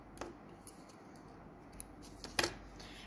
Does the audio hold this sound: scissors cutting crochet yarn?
yes